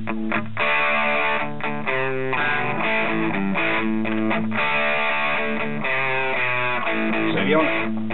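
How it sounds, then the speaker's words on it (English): An electric guitar played through a distorted amp-simulation plugin, chords and riffs ringing out loud and gritty with a steady, saturated tone. "if you want to suddenly get plenty of distortion on that, with lots of options there for affecting the sound"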